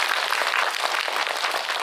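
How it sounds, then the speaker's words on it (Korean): Dense audience applause in a cinema at the Busan International Film Festival, a loud, continuous wash of clapping close by, with no voices over it. "박수 한번 좀 부탁드려요."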